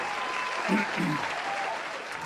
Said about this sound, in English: having me step on the applause button every now and then